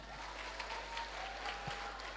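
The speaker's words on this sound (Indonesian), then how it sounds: "Tepuk tangan." Steady applause from a crowd, a soft continuous patter of clapping that holds evenly throughout, somewhat distant.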